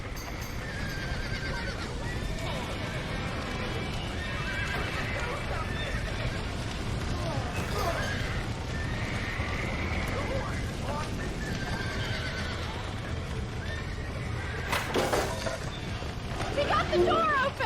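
Horses neigh and whinny repeatedly with clip-clopping hooves in the video game Red Dead Redemption, amid a chaotic barn scene with steady background noise, while voices shout.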